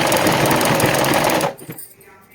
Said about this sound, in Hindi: पास में चलाता हूँ मशीन